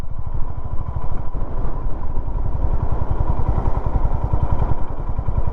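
A motorcycle rolls uphill on the mountain road from Kargil to Leh in Ladakh with no throttle applied; its engine gives a steady, close, rapid thumping idle with faint rattling, loud and continuous throughout.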